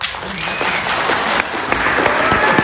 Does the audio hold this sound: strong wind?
no